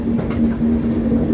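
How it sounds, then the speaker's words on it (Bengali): Saraighat Express running at speed on the main line, a loud continuous rumble of wheels and carriages with a steady low hum, heard from on board. "এবার ট্রেন কিন্তু বন্ধুরা মেন লাইনে উঠে পড়েছে, এবার ট্রেন মারাত্মক ভাগাবে।"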